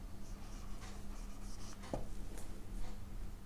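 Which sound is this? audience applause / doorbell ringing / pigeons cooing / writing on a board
writing on a board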